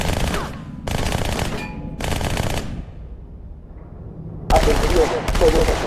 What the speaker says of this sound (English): But instead we got the submachine gun with a meh sound.